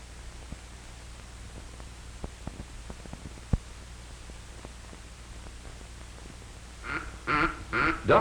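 Ducks quacking in a short burst of several calls at the end, fairly close, over a steady hiss of static and faint scattered clicks, heard from a duck blind with a grounded boat.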